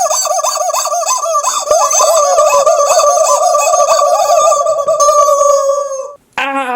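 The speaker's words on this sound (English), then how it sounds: "Now for the Therizinosaurus rubber chicken." A Mattel Jurassic World Dominion Therizinosaurus rubber chicken toy lets out a loud, wavering, honking squawk that warbles for about six seconds, then drops out briefly before a short final burst.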